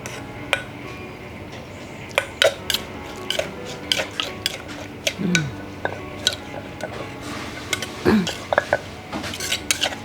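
Utensils clink and scrape in a bowl as Thai fruit salad is mixed, a string of sharp irregular taps and knocks with soft stirring between them and a little speech in the background.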